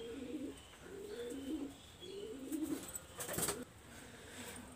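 Pakistani high flyer pigeons coo in a soft, repeated rhythm of low throaty phrases, with a brief chirp partway through, fairly quiet and close.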